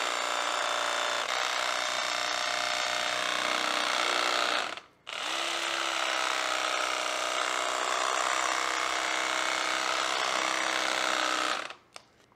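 A cordless electric knife on its fast setting saws through meat with a steady, loud motor buzz that runs for several seconds, stops briefly, then resumes until it cuts out near the end.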